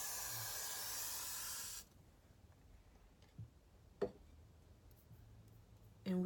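A close, steady hiss of hairspray lasts a couple of seconds, then cuts off, leaving near-quiet with a few faint clicks and taps.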